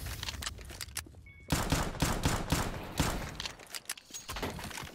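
Rapid bursts of automatic gunfire in the Counter-Strike Danger Zone battle royale mode, loud and close, with dense repeated shots continuing through the clip and no talk over them.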